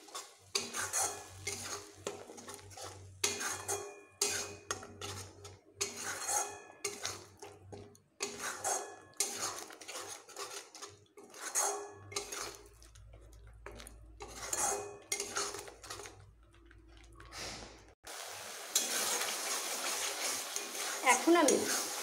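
Ground spice paste being stirred and sautéed in a pan, with rhythmic metal spoon scrapes and clinks against the pan over a light sizzle, pausing between strokes and ending in a steadier frying hiss.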